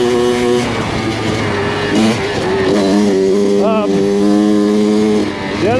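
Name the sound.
Kawasaki KX100 dirt bike engine, short shifting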